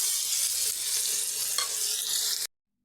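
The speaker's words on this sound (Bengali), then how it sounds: "এবার এই কুমড়োগুলো ভালো করে আমি ভেজে নেব" Pumpkin pieces with turmeric and salt fry in a pan, making a steady, close sizzle with faint stirring scrapes, which stops abruptly into silence after about two and a half seconds.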